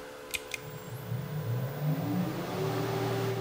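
The spindle motor of a Harrison HS175 universal mill starts after a couple of clicks, its hum rising in pitch as it spins up, then running steadily with a mechanical whine.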